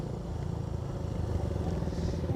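A motorcycle engine rumbles steadily nearby, a continuous low drone that swells slightly as it runs.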